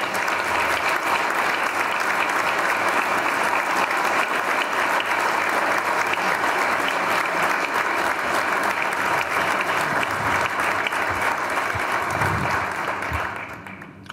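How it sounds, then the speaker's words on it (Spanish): Long, steady applause for university workers at a book presentation in a hall, a thick even wash of clapping from a large audience that holds for many seconds before fading out at the end. "Valga un homenaje y un aplauso para estos compañeros trabajadores"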